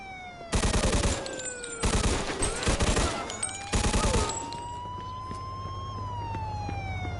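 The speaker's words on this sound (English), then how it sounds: "some nut job here shooting a gun" Bursts of rapid gunfire from a shootout in the video game Mafia 2, three loud volleys over a wailing police siren that keeps rising and falling after the shooting stops.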